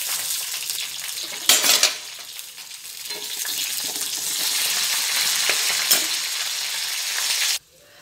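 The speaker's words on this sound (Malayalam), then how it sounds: "ഒരുള്ളി കറിവേപ്പില ഇതിലേക്ക് ഇട്ടുകൊടുക്കാം ഇതിലേക്ക് രണ്ട് ചുവന്ന മുളക് ഇട്ട് കൊടുക്കാം" Shallots, curry leaves and red chillies fry in hot oil for a prawn gravy, a steady loud sizzle with a couple of sharp spatter bursts before it cuts off abruptly near the end.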